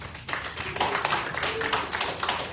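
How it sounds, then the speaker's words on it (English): Audience applause at a city commission meeting, a dense patter of many hands clapping at steady volume for a couple of seconds with no talk over it. "let's give a round of applause"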